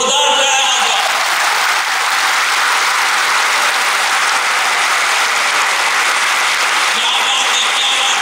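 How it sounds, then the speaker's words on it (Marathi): Dense, loud applause from a student audience fills a college hall, a continuous wash of clapping that holds steady for several seconds before easing slightly at the end. "एकदा जोरदार टाळ्या वाजवा"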